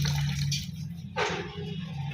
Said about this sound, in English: Let me add more water to it.